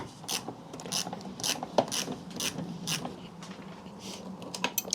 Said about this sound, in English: Let's tighten this down as far as we can with this, and then we'll torque it up.